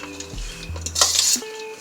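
Salad being tossed with store-bought dressing in a bowl, with close utensil scrapes and clinks against the dish, a brief rattling flurry in the middle, and no talking.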